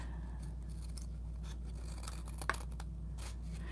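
Scissors snip through fabric scraps being trimmed for patchwork cards, a series of quiet, close cuts and rustles over a steady low hum, with no talking.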